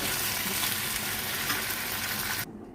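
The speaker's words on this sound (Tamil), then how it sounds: "அதை நம்ம இந்த ஸ்டேஜில் போட்டால் சீக்கிரம் வதங்கிடும்" Tomato and onion sautéing in a pan for chutney give a steady, close, hissing sizzle that carries evenly, then cuts off abruptly near the end.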